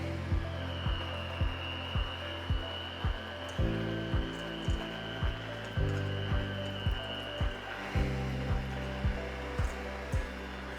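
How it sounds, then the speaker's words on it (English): A hand mixer beats room-temperature butter with a continuous motor whine. A steady train of regular rhythmic clicks runs under it as the beaters turn, and the pitch shifts slightly partway through. "Whisk the room temperature butter with a whisk or hand mixer for 2 minutes."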